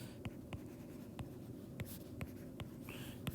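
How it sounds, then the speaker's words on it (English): Numbers are written by hand on a surface, producing soft, rhythmic scratching strokes and light taps about every half second, close and quiet against a low background hum. "I'll write what's left"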